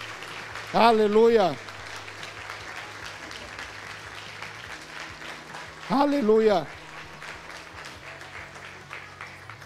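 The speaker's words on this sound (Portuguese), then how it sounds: "Será que você pode aplaudir o Senhor Jesus?" Church congregation applauding during a Sunday service, a steady wash of clapping throughout, with a voice shouting loudly twice over it.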